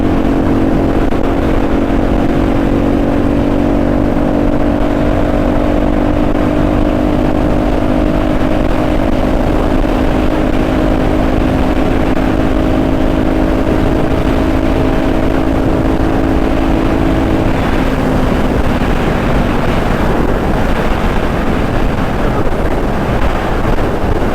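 A carbureted Honda Magna 250 V-twin motorcycle on a test ride drones steadily at speed, with a sustained engine tone whose pitch slowly falls, heavily mixed with loud wind roar across the microphone.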